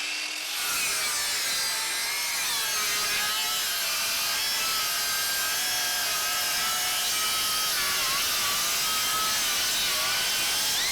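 A Makita or Ridgid circular saw bites into a moist treated 6x6 post. The motor spins up, then grinds through the wood with a loud, continuous, straining howl for roughly ten seconds.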